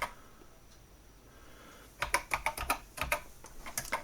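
Quick keystrokes tap on a Memotech MTX512 home computer keyboard, a burst of sharp close clicks after two seconds of near silence, with no voices.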